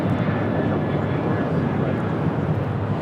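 A Delta Boeing 737-800 takes off from LAX for Austin, a steady, dense engine roar that stays level from start to finish, close and loud, with faint voices mixed underneath.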